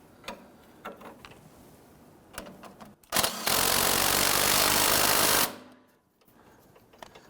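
A pneumatic impact wrench tightens strut assembly hardware on an Infiniti G37, one loud continuous burst of about two seconds following light clicks and handling noises in a garage.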